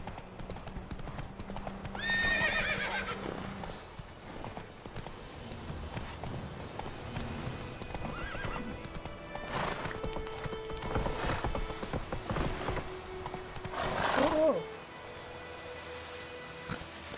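Roach, a horse in The Witcher 3 game, clip-clops steadily over ground amid rustling ambience, giving a couple of whinnies near the start and again near the end, close and moderately loud.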